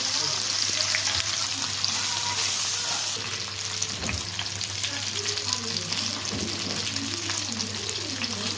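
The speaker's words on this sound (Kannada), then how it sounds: "ಸೂಪರಾಗಿ ಫ್ರೈ ಆಗಿದೆ ಎರಡು ಕಡೆ ನೀಟಾಗಿ" Fish sizzles in hot oil in a pan: a loud, steady frying hiss with scattered crackles, briefly softening partway through, then continuing close and even.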